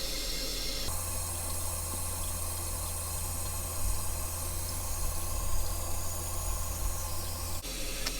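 Continuous rushing and hissing of water refilling a toilet tank after a flapper repair, steady and close, with a faint hum underneath and an abrupt change near the end.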